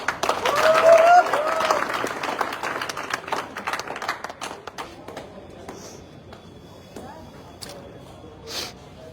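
Loud applause and clapping from an audience at an award event, peaking early then tapering off into scattered claps and background chatter over about nine seconds.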